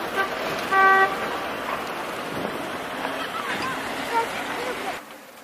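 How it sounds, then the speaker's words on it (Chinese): Car horns toot briefly in city traffic, one short honk standing out near the start against a steady wash of street and engine noise, with faint voices. "那些车就开始按喇叭说你怎么还不走"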